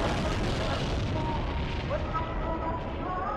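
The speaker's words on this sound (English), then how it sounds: "the explosion was not filmed from one angle," A truck bomb explosion roars as a long, dull, rumbling blast that stays heavy throughout and slowly thins toward the end, with some muffled voices under it.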